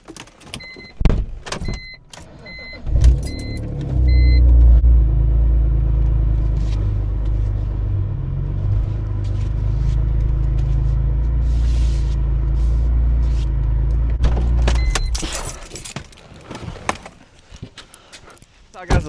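A BMW E46 M3 engine idles with a steady low rumble for several seconds as the car pulls out of a garage, bracketed by clicks, clunks and a few beeping chimes at the start.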